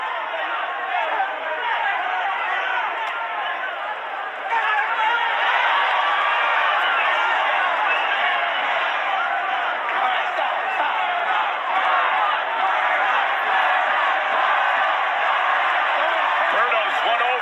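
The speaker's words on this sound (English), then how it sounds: "Berto's won over a big part of this crowd. You hear the Berto chants." Boxing arena crowd at the Guerrero vs Berto fight, a dense, continuous roar of many voices that swells louder after the first few seconds and holds steady, with the chant for the fighter blended into the crowd noise.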